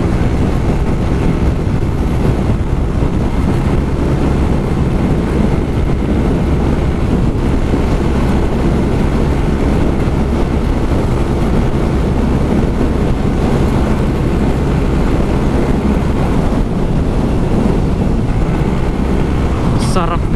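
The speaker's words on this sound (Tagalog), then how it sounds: "ganda ng takbo ng motor natin ngayon." A Yamaha Mio i125 scooter fitted with a Lighten magneto runs hard and steady for the full stretch, its loud engine drone mixed with heavy wind rush.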